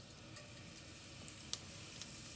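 Cumin seeds spluttering in hot ghee in a pan: a steady, faint crackling sizzle with a few louder pops, no voices.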